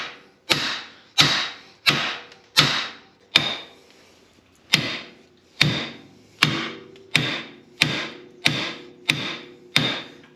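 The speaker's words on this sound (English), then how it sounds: "So now I just need to start beating this loose." Sharp metallic hammer blows strike a wheel bearing part on a Polaris General 1000 utility vehicle to knock it loose, about fourteen evenly paced ringing hits with a brief pause partway through.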